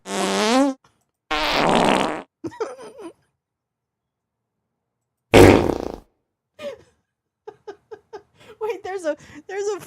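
Loud, rubbery fart noises like a whoopee cushion blast in several bursts, some long and wavering and others short and sputtering. Gaps of silence separate them, and a voice speaks briefly near the end.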